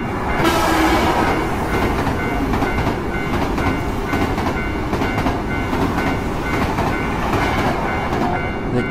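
Train passing a railroad crossing in the video game Tsugu No Hi, a loud close rumble with a steady clickety-clack of wheels over the rails that carries on throughout, no voices.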